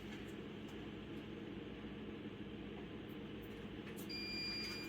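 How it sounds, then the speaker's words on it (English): An electroejaculator machine for bull breeding exams hums steadily at low volume, then a thin electronic beep sounds near the end as it switches on, and holds. "So the beep means that the machine turned on."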